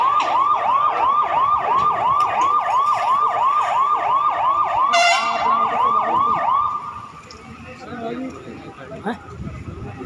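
A fire engine siren wails close and loud in rapid repeating up-down sweeps for several seconds, then cuts out, leaving street noise and a voice talking.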